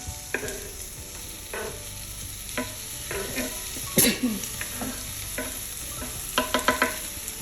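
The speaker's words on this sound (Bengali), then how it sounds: "আমি পেঁয়াজের এবং বাকি উপকরণগুলোর সাথে এই টমেটোটাকেও সুন্দর মতো ভাজা ভাজা করে নেব" Tomato frying with onion and ginger-garlic paste for hilsa do-pyaza, a soft steady sizzle broken by repeated scraping stirs and clacks of a spatula against the pan, close and clear.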